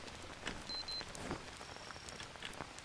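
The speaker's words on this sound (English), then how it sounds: "The fire's going to go out in a moment because of the rain" Rain falls in the jungle survival game Green Hell as a faint, steady patter with scattered droplet ticks and a few soft tonal blips, and no one speaks.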